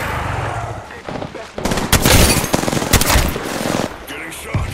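Gunfire in the video game Apex Legends: loud, close bursts of rapid shots and sharp cracks over a dense, noisy game soundscape, with no clear speech.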